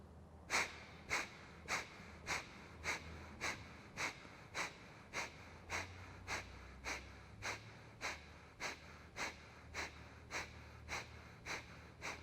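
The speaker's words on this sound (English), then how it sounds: "I close the eyes and take a sharp breath in to begin with." Sharp nasal breaths from a yoga breathing exercise come in a fast, even rhythm, close and clear. About twenty quick forceful exhalations sit over a faint low hum, with no talking.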